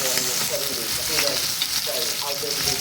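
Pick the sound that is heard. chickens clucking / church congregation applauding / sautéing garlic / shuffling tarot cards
sautéing garlic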